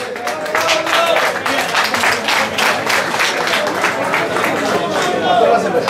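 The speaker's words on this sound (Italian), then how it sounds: "Un applauso al nostro Claudio Giamboi, vincitore della classe S3" A crowd at a slalom rally event applauds class S3 winner Claudio Giamboi, with sustained clapping and cheering throughout while an announcer speaks over it.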